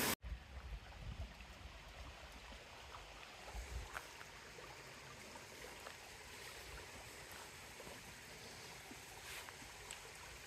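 A mountain stream along a trail flows steadily in a soft, continuous rush, faint and distant, with a brief knock at the start and no talking.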